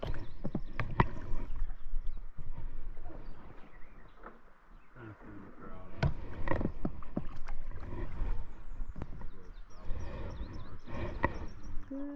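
A raft is paddled along the Black River in Missouri, with splashing strokes and water sloshing close by in an irregular rhythm, joined by knocks against the raft and outdoor background.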